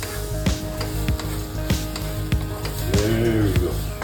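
Elbow pasta being stirred with ketchup, heard as soft wet squishing and scraping strokes in a steady irregular rhythm, fairly close and alone.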